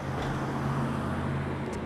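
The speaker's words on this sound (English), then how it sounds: "Cars that go by, they're not part of it." A car passes on a road near Lake Mary, a steady low broadband rumble and tire hiss that holds at moderate distance throughout, with no voices over it.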